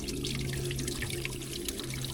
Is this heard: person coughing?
no